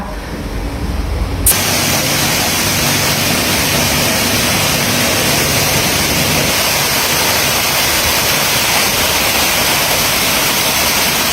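An artificial waterfall in a garden with koi in Si Racha starts abruptly after a brief quiet moment, then pours as a loud, steady, close rush of falling water that continues unbroken.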